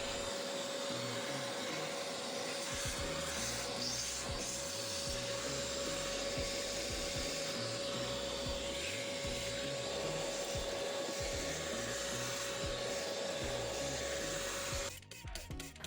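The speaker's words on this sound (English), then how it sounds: "Then use a vacuum cleaner to remove dust and sand." A vacuum cleaner whines continuously at close range with a steady tonal drone and rustling suction, pulling dust and sand from a window track, cutting off abruptly near the end.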